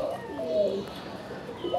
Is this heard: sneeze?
no